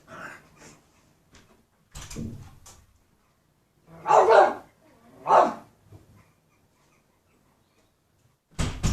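A man imitates a dog barking, giving a few short woofs in separate bursts with quiet pauses between.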